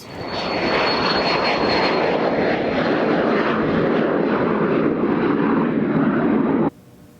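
A training aircraft engine run up to full throttle, with a loud, steady propeller roar that holds for about six seconds, then cuts off abruptly.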